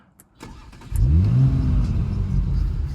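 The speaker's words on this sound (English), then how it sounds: "It does sound really nice as well when you give it the beans a little bit at the same time as starting it up" A 2019 Audi RS5 2.9 V6 TFSI engine cranks and fires up with a sharp rev, then settles into a steady, throaty idle close by.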